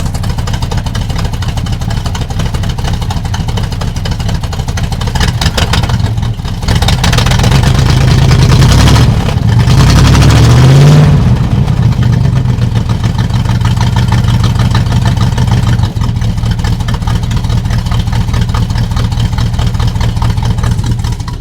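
An old squarebody plow truck that has sat for years runs at a steady, rough, loud idle with a low rumble, then revs up briefly and falls back to idle; no talking.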